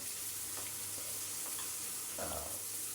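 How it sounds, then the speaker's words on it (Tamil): Mustard seeds, chana dal, urad dal and cumin sauté in butter in a pan, giving a steady sizzling hiss with a few soft stirring scrapes and a brief louder crackle near the end. "வெண்ணெய் ஊற்றி கடுகு போட்டு நல்லா கடலப்பருப்பு உளுந்தம் பருப்பு சீரகம் எல்லாம் போட்டு வத வதக்கிட்டு"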